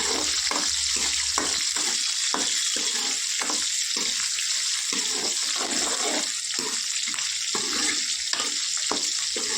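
Shallots, garlic and curry leaves fry in a pan for appalam kuzhambu, giving a steady, close hiss with a few soft stirring scrapes throughout.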